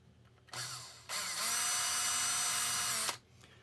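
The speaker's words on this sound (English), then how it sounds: "So you drill the hole." A power drill whirs up briefly, stops, then runs steadily for a couple of seconds at close range, drilling a hole in a tennis ball, before cutting off.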